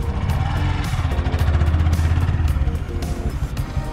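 A Honda MSX125 manual motorcycle pulls away from a stop, its small single-cylinder engine chugging loudly up close with a steady low throb that rises slightly and then settles.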